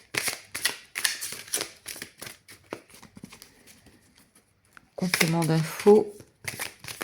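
Tarot cards being shuffled, a crisp riffling flutter lasting about a second, with a French-speaking voice talking before and after.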